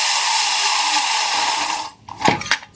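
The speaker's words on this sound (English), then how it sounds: "As I cut through here, I'll make a series of cuts" A power tool cuts through wood while a roadside memorial cross is being built, giving a loud, steady, whining grind for about two seconds. It then stops abruptly, leaving a few short knocks and clatters.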